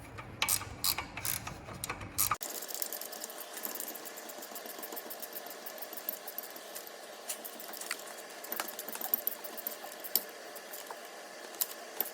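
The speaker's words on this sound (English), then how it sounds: "Once it's loose, just throw your gear wrench on there." A gear wrench ratchets a ball joint nut on a 2010 Dodge Grand Caravan, a thin run of rapid, fairly faint clicks heard after a brief louder knock at the start.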